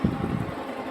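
An old Cincinnati horizontal milling machine spindle runs with a steady low mechanical hum and whir, fairly constant and close, with no speech over it.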